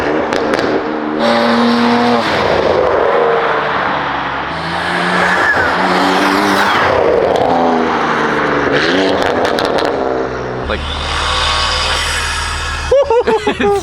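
BMW M4 Competition with front mount intakes, engine revving and accelerating hard through several gear changes, loud and close with rising and falling pitch sweeps, a heavy low rumble, and sharp crackles near the end.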